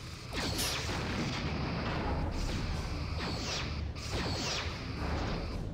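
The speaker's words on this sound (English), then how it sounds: "We keep hitting them with that drain weapon." Breen drain weapon fire in a Star Trek starship battle game, a series of descending energy whooshes with booming impacts over a dense rumbling battle bed, repeating about three times, loud and close.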